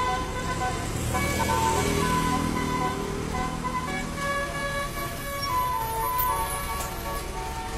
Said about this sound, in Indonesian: Sang sopir terdengar iseng memainkan klakson telolet-nya.